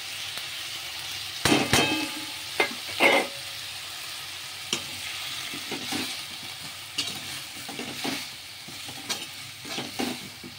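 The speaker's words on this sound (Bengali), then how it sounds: "একটু ভাজা ভাজা হয়ে যাবে।" Vegetables frying with spices in a pan, soft continuous sizzling broken by irregular stirring scrapes and a few louder knocks of the spoon, close by.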